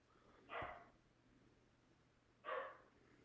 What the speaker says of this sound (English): you might hear a dog bark